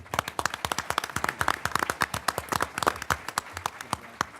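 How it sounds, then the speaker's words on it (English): A small audience at a 2016 Arizona Corporation Commissioner debate gives the moderator a round of applause, with distinct, crisp, close claps in a fast, uneven rhythm and no talking. "And can we give a round of applause to our moderator?"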